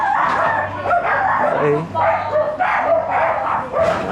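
Several dogs barking and yipping at a home where many dogs are kept, sharp short barks repeating through the clip, close by and mixed with people talking.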